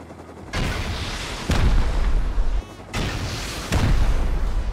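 Turret gunfire in Rust, heard as four heavy, booming bursts close by, each rolling on for about a second, with no voices over them.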